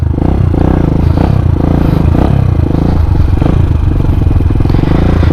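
Supermoto motorcycle revving hard in first gear to lift into a wheelie, a loud, close, continuous engine roar with rising and falling throttle and some mechanical clatter throughout.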